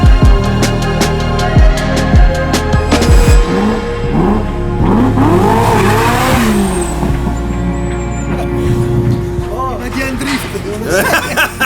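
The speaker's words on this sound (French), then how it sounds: "Il a dit que tu la mets en drift." A car drifts at a burnout event, its engine revving hard with wavering tire squeals. The sound is loud and close, with crowd chatter running underneath throughout.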